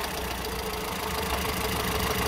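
A diesel Ford Ranger engine idles with zero oil pressure, a steady continuous mechanical drone with a faint knocking texture, close and unbroken throughout.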